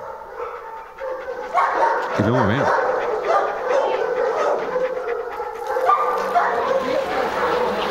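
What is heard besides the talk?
dog panting and barking in film sound design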